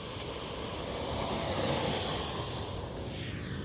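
Freewing 70mm BAE Hawk RC ducted-fan jet lifting off, a steady high-pitched turbine-like whine over a rushing roar that swells briefly at mid-climb.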